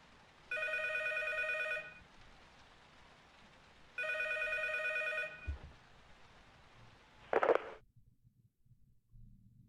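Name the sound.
telephone ringing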